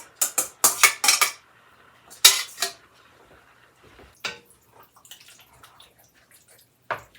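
Rinsed and drained home-canned beans tumble into a cooking pot for chili, giving clattering bursts of metal and wet thuds at first, then sparser, fainter knocks and taps.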